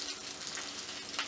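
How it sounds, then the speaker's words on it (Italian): A braciola meat roll browns in a hot pan, giving a steady, dense sizzle and crackle that continues without a break for the whole stretch, close and fairly loud, with no voices. "e la facciamo rosolare per bene da tutti i lati fino ad ultimare la nostra cottura"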